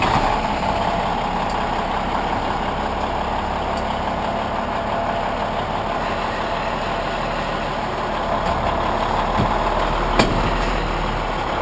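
A Kenworth W900 truck engine idles steadily and close by, a low continuous rumble with little variation, holding alone without voices across the span.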